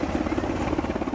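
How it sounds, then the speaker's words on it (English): An Air and Marine Operations helicopter hovers overhead in the San Diego area, its rotor throbbing in a fast, steady pulse, loud and close for a brief moment. "An Air and Marine Operations helicopter was hovering above."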